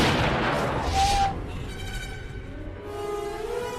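An old woman fires a gun at a creature in the 2001 horror film Jeepers Creepers. A loud, close blast with a rumbling tail opens the scene, then settles into a quieter ringing backdrop.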